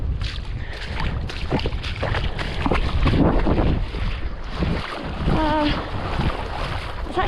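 A hiker wades across a cold river channel on a wet thru-hike, with continuous rushing, splashing water and wind buffeting the microphone close up.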